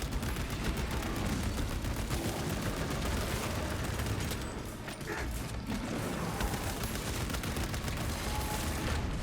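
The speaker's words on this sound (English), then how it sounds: "I guess we just keep shooting plasma." Plasma weapon fire in Space Marine 2 during combat, a dense, continuous barrage of rapid crackling blasts and mechanical clatter, loud and close with a brief dip midway, no speech.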